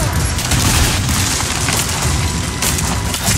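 Gunfire in the Rise of the Tomb Raider video game, a dense continuous roar of shots and impacts filling the whole moment, loud and unbroken, with no clear talking.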